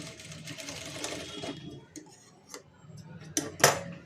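Domestic sewing machine running a short stitch along golden lace for a tassel, a soft rapid mechanical whir with light ticking, ending in a couple of sharper clicks.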